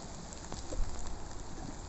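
Steady rain falls on a pier in Pasuruan under thick cloud, a dense continuous patter with no talking.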